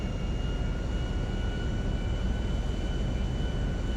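A private plane in GTA V glides in to land with its gear down, a steady, loud engine drone with a constant tonal whine and no break.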